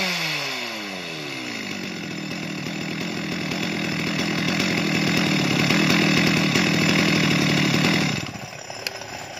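A small Stihl MS 250 chainsaw engine roars steadily at close range, loud and continuous, then drops back sharply near the end.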